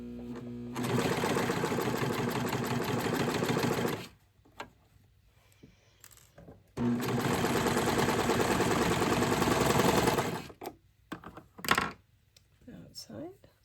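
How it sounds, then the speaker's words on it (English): A serger sewing machine runs in two long bursts, stitching fabric for 18-inch doll clothes, loud and close with a fast buzzing drive, separated by a pause with small handling clicks and brief talk. "Don't run over a pin with the serger,"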